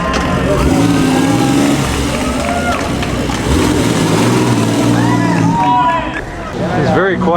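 Engines of classic cars, Ferraris among them, at the Mille Miglia road race, a loud steady rumble with revving rising and falling, crowd babble and voices mixed in throughout.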